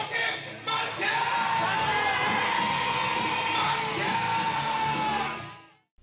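A crowd roars and shouts at a street reenactment of the March 1919 independence cry by Ilsin Girls' School students in Jwacheon-dong, Dong-gu, Busan, amid waving Taegukgi flags. Loud, sustained massed voices with raised yells carry steadily for about five seconds before fading.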